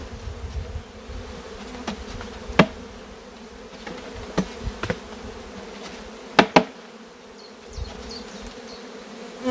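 Honey bees buzz in a steady close drone from an opened beehive, with scattered sharp clicks and knocks of frames being handled.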